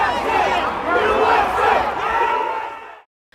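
A crowd roars and yells together at the scene of Charlie Kirk's shooting, a loud, dense wall of voices holding for about three seconds before cutting off abruptly.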